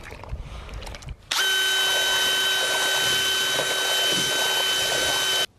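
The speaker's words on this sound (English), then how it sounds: "having a powerful drill definitely helps" A power drill mixing soaked paper starts abruptly and runs at a steady high whine for about four seconds, with a churning, grinding texture underneath, then cuts off.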